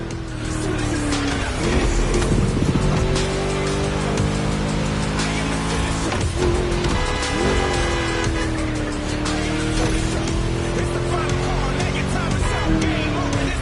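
A V8 engine roars continuously in a racing video game, loud and close, with rising and falling revs, shifts and occasional tire squeal throughout.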